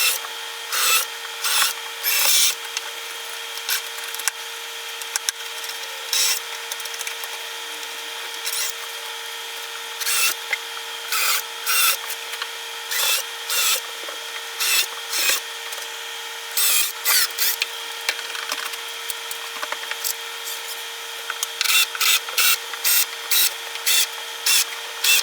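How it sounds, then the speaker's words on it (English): Screws are driven into the wooden top of an entertainment stand, heard as repeated short grinding, ratcheting bursts separated by pauses over a faint steady background hum. "And what I'm doing now is screwing it down."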